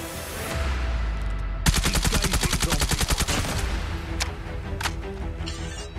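KN-44 assault rifle fires in a first-person shooter video game: a rapid automatic burst of about twenty sharp shots, loud and close, followed by a few scattered single shots and distant impacts.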